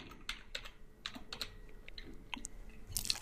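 Quiet typing on a computer keyboard: a short, irregular run of soft key clicks in a calm indoor room, ending with a slightly louder cluster of keystrokes.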